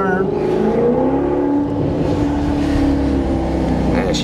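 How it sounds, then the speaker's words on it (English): A 2014 Maserati GranTurismo MC Sport engine downshifting on a turn, its loud, close exhaust note rising and falling in pitch through gear changes, with a light rumble underneath. "And I love downshifting this thing. Listen to that."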